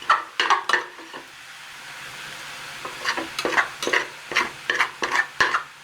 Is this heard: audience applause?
no